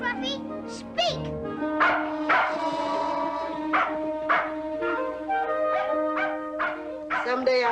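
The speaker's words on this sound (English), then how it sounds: "Now, Scruffy, speak" A dog barks and yips several times in short bursts, fairly close, with a few whiny notes between barks.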